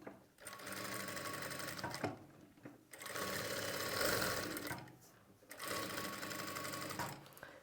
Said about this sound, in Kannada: ಆ 1/4 ಇಂಚ್ ಮಾರ್ಜಿನ್ಗೆ ನಾರ್ಮಲಾಗಿ ಸ್ಟಿಚಿಂಗ್ ಮಾಡ್ತೀವಿ